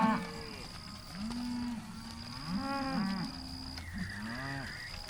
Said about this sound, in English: we've moved a lot of cows, and we've seen a lot of MASHONA cross babies